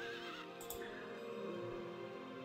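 A horse neighs in Heroes of Might and Magic 3, a whinny rising then trailing off over a soft game backdrop, fairly quiet and with no voices.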